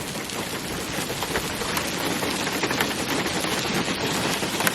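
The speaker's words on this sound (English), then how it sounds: "It is in fact hailing outside." Hail pelting the outside of a van during a storm, a dense, crackling patter of rapid hard impacts that stays loud and continuous throughout.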